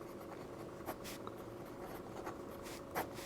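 Pen writing on paper while a quadratic equation is worked out in a math exam solution, soft steady scratching with a few brief stroke accents, close and quiet, no talking.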